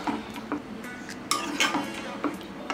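A utensil clinks lightly against a pan while paneer cubes are gently folded into butter masala gravy, a few soft scraping taps spaced out over a quiet kitchen background.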